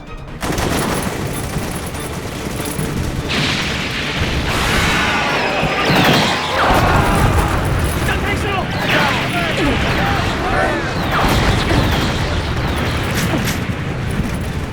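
Gunfire and explosions in a Japanese tokusatsu TV show, Ultraman Decker, with loud sustained bursts of rapid shots, crashes and booms filling the whole stretch, mixed with voices.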